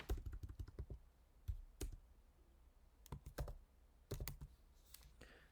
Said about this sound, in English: so we just type